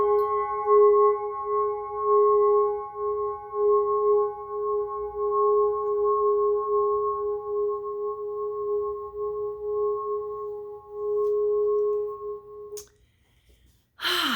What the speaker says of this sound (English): All right, little singing bell.